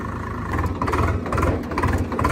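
A Swaraj tractor engine runs steadily at a low, throbbing idle, close and continuous with no voices over it.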